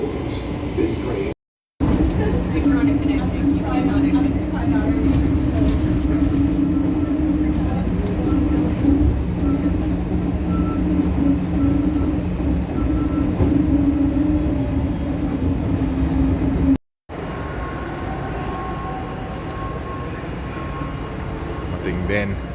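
A passenger train running, its steady loud rumble and hum of wheels and motors filling the car, with brief cuts and a recorded announcement and voices over the noise.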